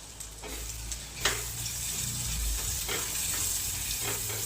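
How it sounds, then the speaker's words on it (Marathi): Onion curry with turmeric and red chili powder sautéing in a pan, a steady soft sizzle with faint hiss, broken by a few scraping stirs of a spoon against the pan. "आपल्याला हे छान असं परतून घ्यायचं"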